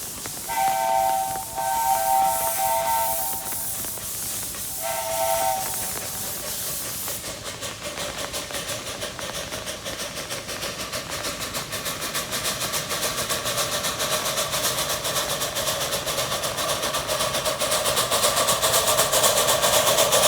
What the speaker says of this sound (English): After the engine reversed, with a quick blow of its whistle, it charged up the hill at full speed.